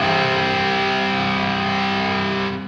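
A sustained, heavily distorted electric guitar chord rings out loud and thick, then starts to fade at the end.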